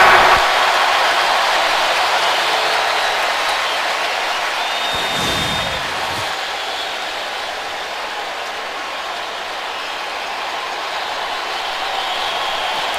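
A deafening stadium crowd roars at an NFL football game between the Titans and Texans, a broad, steady wash of noise close and loud throughout.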